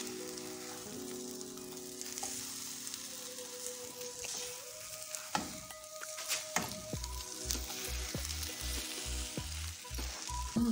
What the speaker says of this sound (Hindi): अब दूसरी साइड से हम पका लेते हैं मीडियम फ्लेम पे